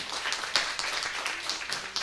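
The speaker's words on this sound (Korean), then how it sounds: "오늘 박수. 예, 박수." Church congregation applauding to welcome two new members, a brief spell of bright, close clapping from many people at a fairly low level.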